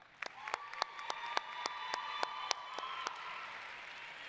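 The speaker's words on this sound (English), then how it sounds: "let's give these members a final round of applause" At a 2018 state convention session, a small audience claps in a steady, evenly spaced rhythm of around a dozen sharp claps over a faint room hum and a thin background tone.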